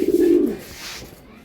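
A racing pigeon gives a single low, throaty coo, close and fairly loud for about half a second before fading into faint background noise.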